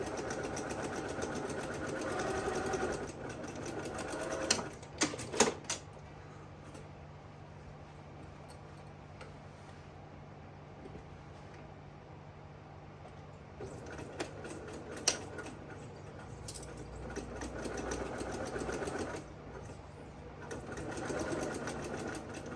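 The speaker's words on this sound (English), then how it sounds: "We're gonna stitch these raw edges shut with another" A sewing machine hums steadily for a long stretch, stitching the raw edges of a fusible fleece fabric basket, with a few brief pauses and clicks where the stitching eases and resumes.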